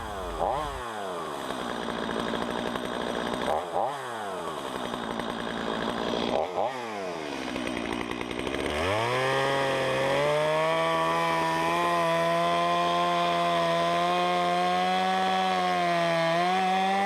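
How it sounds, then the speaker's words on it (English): Chainsaw cutting an old telephone pole to size for a ranch fence post, engine revving up and down in repeated surges, then holding a steady loud drone as it bites through the wood. "I'm going to cut it to size, cut it to the size I need with the chainsaw"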